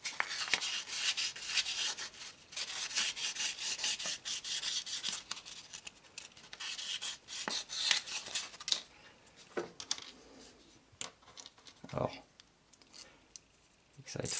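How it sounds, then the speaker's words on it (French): A small part of a Liberty Walk Ferrari 458 scale model kit is sanded by hand to remove leftover sprue, giving a close, continuous rasping rub with uneven strokes and occasional sharper scrapes. "Juste un petit coup de ponçage pour supprimer le résidu de grappe."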